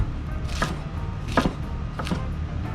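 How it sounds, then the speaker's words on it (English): A knife slices through endive on a cutting board for a green salad, giving three distinct crisp chopping strokes spaced about a second apart, close and clear over a low background hum. "I'm just going to cut the bottom of it and then slice in diagonal like this"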